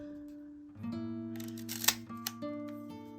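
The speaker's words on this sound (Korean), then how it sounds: "이런 소리도 찰칵 소리도 정말 시원하고 매력적인 녀석인데" A camera shutter fires with a couple of sharp, brief clicks midway, set against steady electronic tones.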